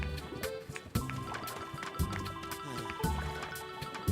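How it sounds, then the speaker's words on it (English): Underwater bubbles rise from the ground in the Wii game Zelda Skyward Sword, giving a steady run of soft liquid bubbling and gurgling with regular low pulses, moderately loud with no talk. "There are lots of bubbles coming up from the ground"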